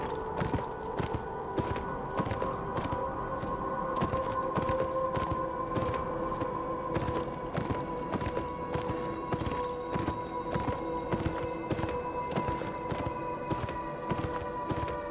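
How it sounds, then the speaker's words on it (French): Horse hooves clip-clop in the video game Beyond Two Souls, an even walking rhythm of close, sharp strikes over a sustained musical drone. "Heureusement ils nous ont mis un cheval"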